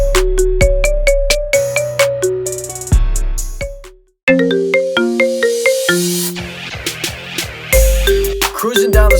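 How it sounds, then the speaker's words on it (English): A melodic phone ringtone plays loud and alone, a bright synthetic tune of repeated plucked notes that breaks off briefly and then resumes with a new phrase. "Play this ringtone to show all your homies what's up."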